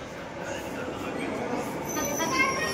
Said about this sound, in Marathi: आली ट्रेन आली. फोटो काढून घ्या ट्रेनचा, व्हिडिओ काढून घे. बघा आली ट्रेन.